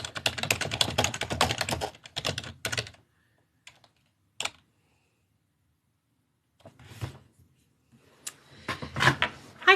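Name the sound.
typing on a laptop keyboard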